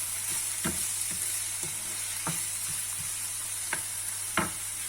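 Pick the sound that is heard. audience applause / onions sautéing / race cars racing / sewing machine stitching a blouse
onions sautéing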